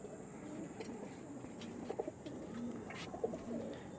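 Arshad line pigeons coo softly in a loft, faint low murmuring calls scattered over a steady background hiss, with a few brief clicks and rustles and no voices.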